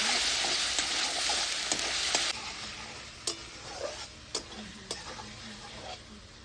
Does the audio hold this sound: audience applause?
no